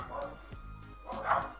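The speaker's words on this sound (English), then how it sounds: "Shut up, dogs!" Dogs in the Shantae: Half-Genie Hero video game bark in a few short yapping bursts, fairly quiet, with a low game background hum under them.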